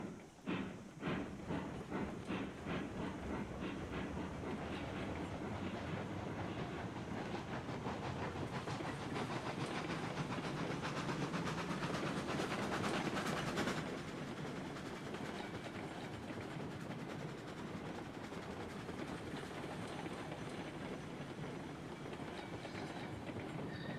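A steam locomotive in the video game Railroads Online gets underway along the track. It starts with chuffing bursts that settle into a steady rumble, with clickety-clack and hiss, heard from close by at moderate volume, with no talking.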